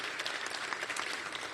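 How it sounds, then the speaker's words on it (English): A crowd at an outdoor community walk for crime victims applauds the San Francisco police chief, a steady dense clapping that stays moderately distant and even throughout with no talking over it. "give him a round of applause for everything he does for our city and for our department"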